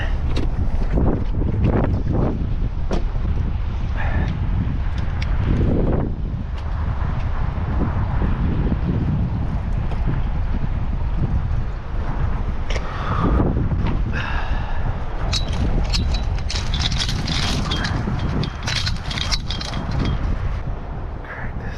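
Strong winter wind roaring across a microphone during snow plowing, a loud, continuous buffeting rumble with gusting surges and rattling, lasting throughout with no speech.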